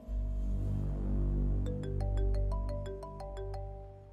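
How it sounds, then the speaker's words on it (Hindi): A mobile phone rings with an incoming call, a bright melodic ringtone of rapid rising and falling beeps starting partway through over a steady low hum in a quiet indoor room. "सदफ फोन कर रही है"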